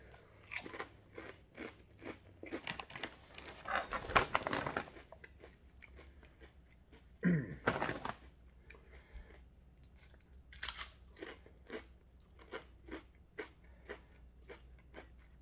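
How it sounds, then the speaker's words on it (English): Loud, close crunching of thick kettle-cooked hot honey potato chips, with bursts of bites and steady chewing crackles repeating throughout, no talking. "these are kettle cooked chips. They're supposed to be extra thick and crunchy."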